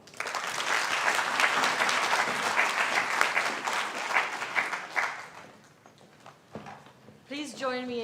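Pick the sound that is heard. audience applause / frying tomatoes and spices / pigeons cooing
audience applause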